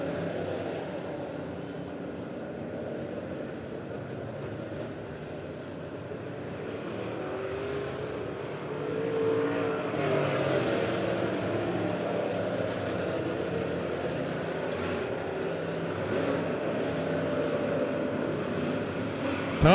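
Race cars on a dirt oval track, B-Mods and Midwest Mods at Monett Motor Speedway, drone at a distance. Engine roar stays steady and rises slightly partway through as cars pass in the distance.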